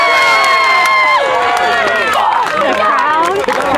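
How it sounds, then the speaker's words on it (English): A reality competition crowd erupts in loud, sustained cheering and shouting, voices overlapping in a dense roar that carries on throughout. "crowd goes wild for Lonan"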